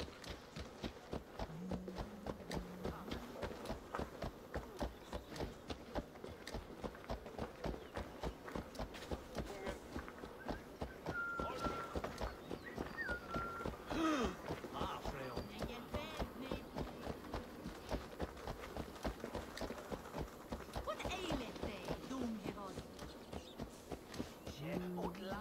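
Steady rhythmic horse hoofbeats in the video game Assassin's Creed Valhalla clop along throughout at a trotting pace, with voices talking over them.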